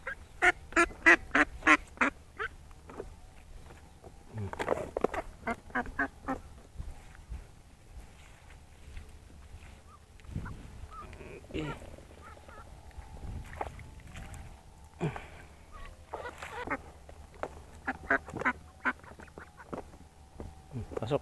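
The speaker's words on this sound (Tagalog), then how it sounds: "Ito naman, dalawang itik. Ang dalawang itik na makulit." Two domestic ducks give loud, close quacking bursts, irregular and spaced out, with someone talking in between and a little outdoor background noise.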